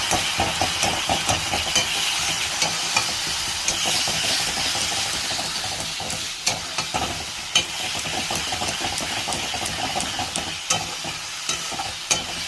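Spices and onions fry in a pan with a constant sizzle, broken by repeated sharp scrapes and knocks of a spoon stirring against the metal, close up with no talking.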